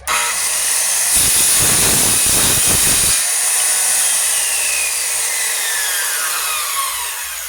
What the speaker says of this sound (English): so your circular saw can run before you cut it